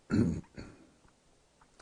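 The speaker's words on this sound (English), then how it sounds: "There you go, clear my throat." A single throaty clearing sound, close and fairly loud, followed by a quieter rasp and soft breath.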